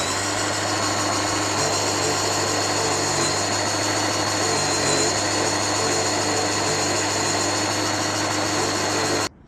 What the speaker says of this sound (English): you holding the trimmer all wrong. I'm doing this just to show y'all that the product works